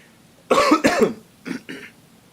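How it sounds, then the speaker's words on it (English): Two loud, close coughs in quick succession, followed by two softer, shorter coughs after a brief pause. "What are we going to name the cough?"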